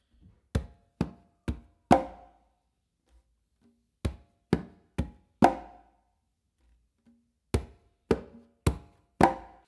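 Congas playing a clave pattern of bass tones, finger strokes and a close slap with the dominant hand, two groups of four sharp, dry hits separated by a pause, struck close and alone.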